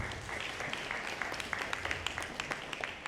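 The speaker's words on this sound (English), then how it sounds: "I want to give them a round of applause." A small audience at a National Black Business Month mixer applauds, a steady patter of individual hand claps at moderate distance, fairly quiet and continuous.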